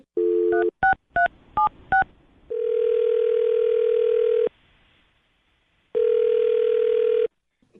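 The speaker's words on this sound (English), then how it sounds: "I'm going to dial her phone number right now." Telephone keypad dialing a number: six quick touch-tone beeps in a rapid uneven run, then a long steady tone, a pause of silence, and the tone again, loud and close.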